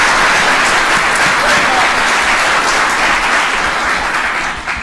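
A full audience claps steadily for a pitch presenter and judges at a university startup pitch competition finals, a dense, even wash of applause that tapers slightly near the end.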